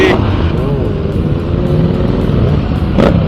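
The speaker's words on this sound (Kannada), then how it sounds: "ಭಾರಿ ಆಗೈತಲ್ಲ ಬೈಕು" A heavy Harley-Davidson motorcycle engine idles and rumbles with a deep, steady low throb, close by, with brief voices over it, at India Bike Week in Goa.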